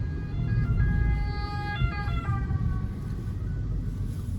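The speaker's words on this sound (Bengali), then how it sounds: "এর ভিতরে মাত্র একটা অ্যাম্বুলেন্স গেল" An ambulance siren wails, sweeping up and down over the rumble of road traffic in Italy, fading as the ambulance moves on.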